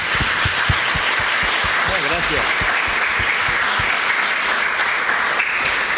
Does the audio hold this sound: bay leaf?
no